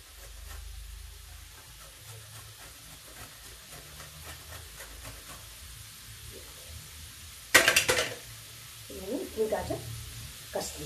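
Grated carrot hits a hot pan for a spinach vegetable dish and is stirred. Low kitchen rumble with a faint voice gives way to a sudden loud sizzle burst, followed by a few shorter hissing, stirring flares.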